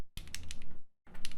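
Rapid keystrokes on a computer keyboard clatter in close, irregular bursts, with a short pause before another flurry of clicks.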